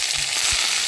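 Diced potatoes frying in hot oil with cumin for a dish of mol fruit with egg and chana dal, giving a steady close sizzle with soft crackles and a few stir-like bumps, no talk.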